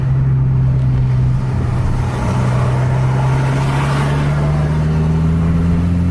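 A bus engine roars at full throttle in a bus racing video game, a loud, sustained low drone whose pitch climbs slowly and steadily as the bus accelerates, with no speech over it.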